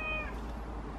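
A cat meows once, close and fairly clear, its tone falling away quickly over a steady low background hum.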